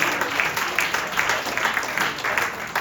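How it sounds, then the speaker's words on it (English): A comedy club crowd in Florida applauding a stand-up feature set: steady, dense clapping from many hands, loud and close, sustained without letup. "Give yourselves a round of applause."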